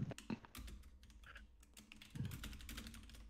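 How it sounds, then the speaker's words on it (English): Quiet typing on a computer keyboard, a fast, uneven run of soft key clicks with a few heavier taps and no voices. "stop typing"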